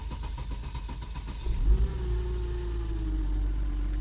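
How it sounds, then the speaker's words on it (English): A Mercedes-Benz M-Class engine with a weak battery cranks with a stuttering, uneven rumble, then catches and settles into a steady, continuous idle hum. "It took long for engine to crank and start up because of the weak battery"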